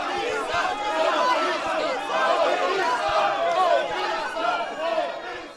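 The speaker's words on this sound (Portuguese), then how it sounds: "Na chegada do presidente em exercício, Michel Temer, vaias e cartazes." Crowd booing and jeering at the arrival of acting president Michel Temer at the Brazilian Congress, a dense, continuous roar of many voices with shouts rising and falling throughout.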